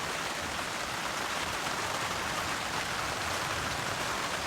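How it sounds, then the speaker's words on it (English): Heavy rain pours steadily onto a parked car and a camping tarp during a storm, a dense, even hiss of drops that never lets up, fairly soft and with no voices. "enjoy the serenity of this beautiful rain"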